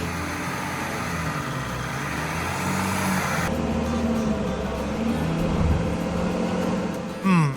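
A 4WD car climbs an off-road track near Kenilworth, a steady engine drone with rumbling tyres and a shift in tone partway through, heard from inside the vehicle, no talking.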